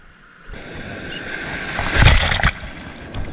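Ocean waves breaking on the shore at Black's Beach while surf fishing, a close, loud rush of surf that swells to a crashing peak midway and then hisses back, with wind buffeting.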